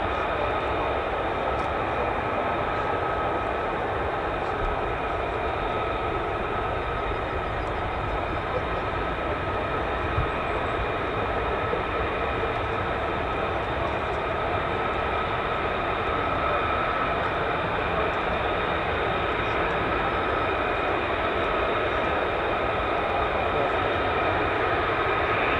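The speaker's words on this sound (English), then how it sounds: "So the F-35s are taxiing down what we call the Warrior Walk" F-35 fighter jets taxiing at RAF Lakenheath make a steady, loud, unbroken engine roar and whine that holds at an even level throughout.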